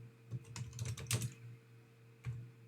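A short burst of keys is tapped on a computer keyboard while entering a network command, a quick cluster of clicks followed by a pause and a single later keystroke, close but quiet over a low hum.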